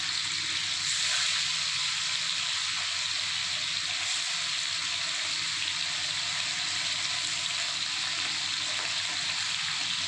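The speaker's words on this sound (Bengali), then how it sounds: "পনিরগুলো ভেজে নেব।" About 200 g of paneer fries on low heat in a pan, giving a steady, even hiss of sizzling oil throughout with no break in the sound.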